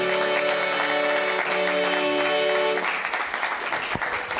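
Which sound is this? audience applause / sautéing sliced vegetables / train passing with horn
audience applause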